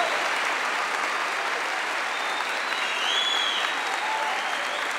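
A church congregation applauds during a Catholic service, a loud, dense and sustained wash of many hands clapping, with faint whistles or cheers rising briefly above the steady roar.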